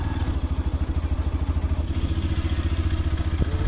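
Yamaha FZS motorcycle engine on a morning ride, a loud, close, rapid pulsing putter with steady rhythm and no talking.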